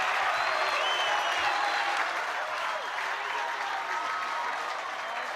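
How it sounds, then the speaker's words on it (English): At a Paarl Boys High School rugby match against Hoërskool Outeniqua, the Paarl Boys crowd cheers and applauds loudly and without a break after a try, with whistles and shouts mixed into the roar. "the Paarl Boys crowd to the right of the commentators' booth has gone mad"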